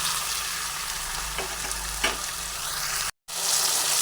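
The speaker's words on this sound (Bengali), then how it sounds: "সেজন্য আমি এটা সর্ষের তেলে ভেজে নিচ্ছি" Okra pieces fry in hot mustard oil, a continuous close sizzle with a few light clinks of stirring, cut by a brief dropout, with no talk.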